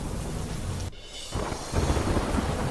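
Heavy downpour with thunder in the Botad region roars as dense, loud noise, breaks off briefly, then resumes with a deep rumble swelling at the end, no voices.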